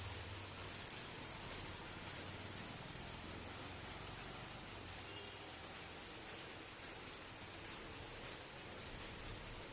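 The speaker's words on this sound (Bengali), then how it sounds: "আজকে তারও উপায় নেই সকাল থেকেই বৃষ্টি" Steady rain falling outdoors on a wet day, a constant even hiss of drops on surfaces with faint low rumble beneath, unbroken for the whole stretch.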